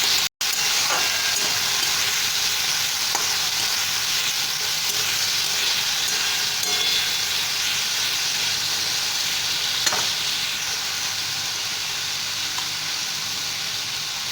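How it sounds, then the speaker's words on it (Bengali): Okra with turmeric frying in a pan gives off a dense, steady sizzle and hiss, with occasional faint scrapes from stirring, close and continuous with no talking. "হলুদ দিয়ে দিয়েছি এবার এটা ভালো করে মিশিয়ে নেব"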